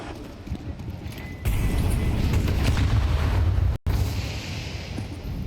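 Grenade blasts and gunfire thunder through a Counter-Strike match at a major tournament, a loud continuous barrage of booming explosions that drops out briefly before resuming.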